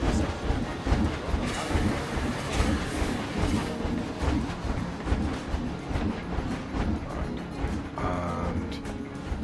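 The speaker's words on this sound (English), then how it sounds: "Near the train, there it is." A train in a Planet Coaster theme park rolls past, a steady dense rumble with clattering wheels and mechanical noise that stays loud throughout.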